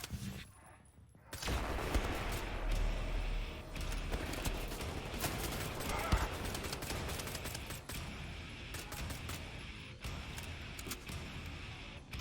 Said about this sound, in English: Dual wield automatic shotguns